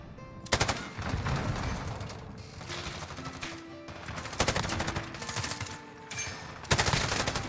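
The Encryption MK9 LMG in Modern Warfare fires in loud, close bursts of rapid automatic shots separated by short pauses, with mechanical clatter between them and no talking.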